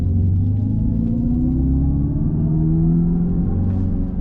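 A 2024 Dodge Charger R/T Daytona, an electric car with about 400 pounds of torque, pulls away with a loud, steady low synthetic drone whose rising hum fills the cabin, no talk over it.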